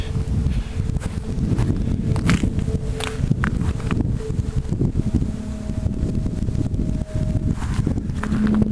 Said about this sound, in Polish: I turbina zaczęła pracować jak należy.